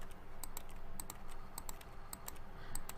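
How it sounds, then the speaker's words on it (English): Rapid, light plastic clicks of a computer mouse tap out an irregular rhythm over a soft background hiss, close and crisp, while playing The Stanley Parable. "Listen to when I click my mouse."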